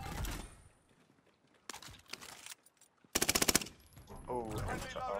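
Automatic SMG fire in Call of Duty: Warzone on Rebirth Island, heard as loud rapid bursts: one near the start, several shorter bursts in the middle, then a dense, sustained volley, with game sound effects and a voice talking afterward.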